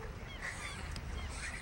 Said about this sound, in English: see a meaty seagull